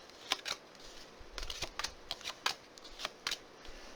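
Tarot cards are shuffled up close in a series of quick, crisp riffling bursts, irregular and fairly soft, with no talking.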